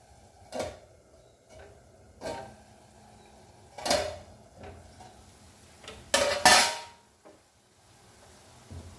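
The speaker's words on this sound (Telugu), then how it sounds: "ఇప్పుడు మూత పెట్టేసి ఒక నాలుగైదు నిమిషాలు దీన్ని ఉడకనిద్దాం" A metal lid clinks onto a cooking pot of punarnava greens curry amid a few scattered clanks and taps, the loudest clatter coming late in the run.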